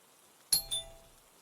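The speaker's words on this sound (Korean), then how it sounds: "한 번 더 초인종을 눌렀다." A doorbell rings once with a quick two-tone ding-dong, bright and clear against near silence, the second tone ringing out briefly.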